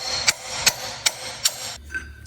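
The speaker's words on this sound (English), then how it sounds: "So we'll just jam that in there and drive it in there crooked until something breaks and we'll get tired of swinging the hammer." A hammer drives a pilot bushing into a Dodge Ram truck with four sharp, evenly spaced metallic strikes close up, followed by a fifth, softer blow.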